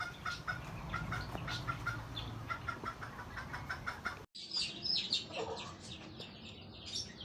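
A young hand-fed pet bird with a cold in one eye, nearly ready to fly, gives close, repeated clucking calls in short bursts against a noisy background.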